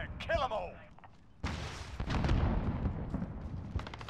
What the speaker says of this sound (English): Oh, there's people shooting right here.